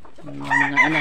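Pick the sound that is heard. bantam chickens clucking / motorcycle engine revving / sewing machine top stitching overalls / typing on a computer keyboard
bantam chickens clucking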